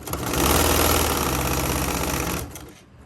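A sewing machine runs continuously while back stitching along the zipper edge of a fabric pouch, a loud, close, rapid mechanical whir with steady chattering rhythm that cuts off near the end, with no talking.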